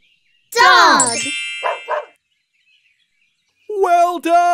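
A cartoon dog in an animated preschool show gives a loud, yelping bark followed by two shorter barks. After a pause, a voice speaks.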